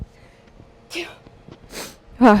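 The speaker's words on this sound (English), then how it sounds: "I have to sneeze, excuse me." A single sharp sneeze near the end, after a few soft breaths and a quick intake of air.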